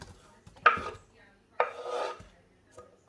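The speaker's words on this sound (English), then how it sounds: "So I'm just going to pop the onion in." Chopped onion tipped into a hot pan on the hob, heard as two short, fairly loud bursts of tumbling and scraping, the second trailing into a brief soft hiss, with quiet kitchen noise between.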